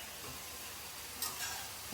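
Food sizzles softly in a hot pan while a utensil scrapes and stirs through it, close and quiet.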